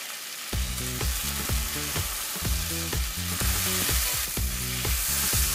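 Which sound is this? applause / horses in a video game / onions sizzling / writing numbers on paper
onions sizzling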